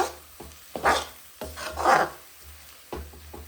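Chana dal and jaggery being sautéed and stirred in a pan on low gas: repeated scraping strokes of the spoon, with rhythmic rasping sweeps and a soft, low sizzle underneath.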